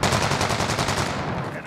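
Rapid automatic gunfire from the video game Call of Duty: Modern Warfare, a loud continuous burst of closely spaced shots in a hallway fight, fading slightly toward the end.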